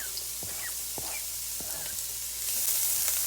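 Onion and garlic fry in an oven-safe pan, a soft close sizzle with scattered small pops and crackles that swells slightly louder near the end, no talk.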